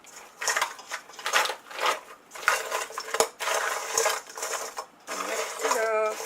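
Goat's milk soap mixture being stirred in a container, with repeated scraping and clinking bursts in an uneven rhythm, close by, while a person talks over it.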